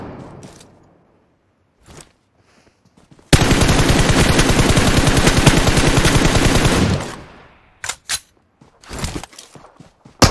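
A long, loud burst of machine gun fire in PUBG Mobile, about four seconds of rapid continuous shots close by, framed by quieter scattered sounds and a few short bursts afterward.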